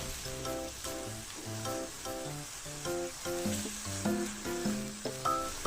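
Frogs with curry paste stir-fried dry in a pan, a steady close sizzle and scrape of stirring running the whole time, with no talk, while a musical tune plays over it.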